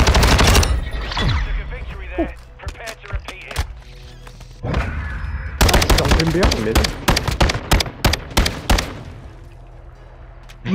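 Gunfire rattles through a shooter video game on the Blacksite map, with bursts of rapid automatic shots and heavy thuds, loud and close, while players talk over it.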